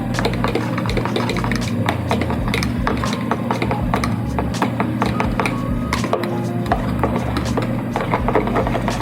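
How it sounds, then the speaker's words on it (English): A fork whisks vegan ranch dressing with paprika in a bowl, making a steady, close, busy run of scraping and tapping strokes that continues without pause and without talk. "just use a fork to whisk it all up"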